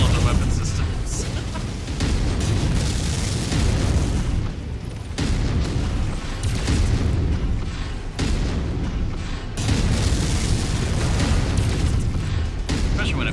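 A mech's autocannon in a multiplayer mech shooter fires heavy, booming bursts that run almost nonstop over several seconds, loud and dense with brief pauses, under a voice talking.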